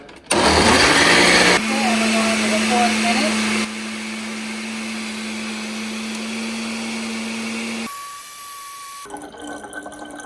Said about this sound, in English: So it needs to be blended for 4 minutes, 1 minute each speed.